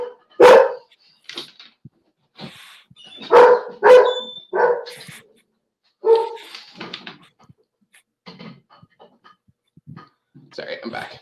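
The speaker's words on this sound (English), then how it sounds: "that's my dog." A dog barking close by indoors in short, irregular bursts of sharp barks with a few whimpers and yips between them, separated by quiet gaps.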